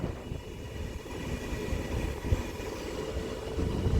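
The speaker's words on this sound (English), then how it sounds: "This is going to Manchester Piccadilly from Crewe. Heading into platform 4A now" A train from Crewe bound for Manchester Piccadilly pulls into platform 4A at Manchester Airport station, a steady rumbling roll with wheel and track noise, close and fairly loud, swelling slightly near the end.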